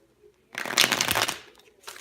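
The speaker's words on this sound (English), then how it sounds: "So now I'm going to shuffle it." A tarot card deck being shuffled by hand, making a single close riffling burst of papery flutter lasting about a second, then a few softer taps as the cards settle, with no talking.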